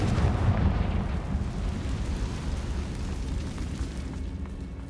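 A Confringo fire-blast spell explodes in Hogwarts Legacy: a loud, sustained rumbling blast that peaks at the start, then rolls on at steady strength for several seconds, with no voices over it.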